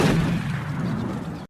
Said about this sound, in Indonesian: Bourne melepaskan tembakan ke udara untuk memancing reaksi.